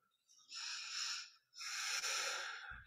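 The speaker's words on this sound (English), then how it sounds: "Imagine your inhale really traveling down to your belly." Slow, deep breaths during a seated chair yoga session, two long airy exhales with a slight wheeze, close and alone with no talking.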